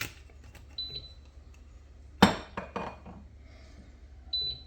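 A metal cooking pot handled on a kitchen counter while preparing to melt butter and olive oil: a few sharp clinks and knocks, one louder clang in the middle, over quiet room tone.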